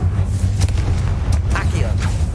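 Confringo blasts in Hogwarts Legacy gameplay: booming explosive bursts over continuous low rumble, with a voice calling out spells throughout.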